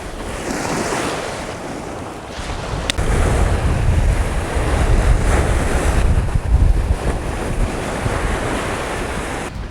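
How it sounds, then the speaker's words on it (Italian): Sudden summer squall at sea during surfcasting: strong gusting wind buffets the microphone over rolling surf as waves build and break along the shore, loud and continuous with no voices. "il vento che si alza improvvisamente, quindi inizia a gonfiare il mare, adesso si stanno formando delle file di onde"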